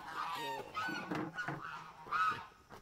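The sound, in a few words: geese honking near eggs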